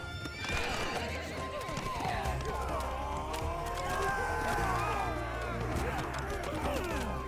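Horses of enemy cavalry in a Bannerlord battle whinny and neigh repeatedly, with galloping hoof clatter and loud battle din throughout.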